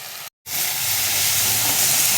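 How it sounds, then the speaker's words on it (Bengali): Onion paste and soybean chunks fry in hot oil, giving a loud, steady sizzling hiss. The hiss breaks off for a moment near the start, then returns and holds evenly to the end. "যতক্ষণ না তেল ছাড়ে ততক্ষণ কষাবো একটু ভালো করে।"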